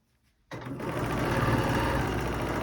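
Sewing machine stitching during free-motion ruler quilting, starting abruptly after a brief quiet moment and then running as a steady, close, continuous whir.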